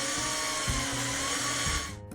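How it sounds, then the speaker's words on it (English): A power driver whirs as screws go through a plastic bracket into the seam below a baseboard, a close, steady buzzing drive with brief load changes before it winds down. "Attach the bracket by driving the screws through the holes in the bracket into the seam below the baseboard."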